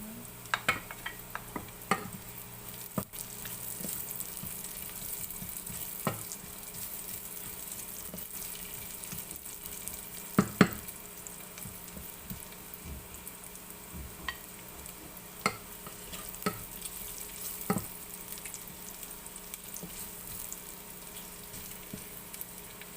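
Garlic sautéing in a pan for Bicol Express laing, a soft steady sizzle with scattered clinks and stirring scrapes, heard alone with no talk.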